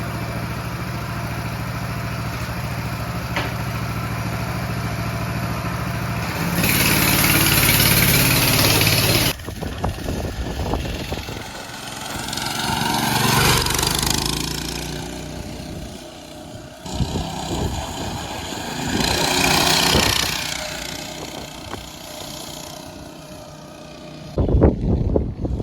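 Small mini bike engine running nearby, idling and revving in surges with bursts of higher-pitched acceleration and rattling mechanical noise between calmer stretches.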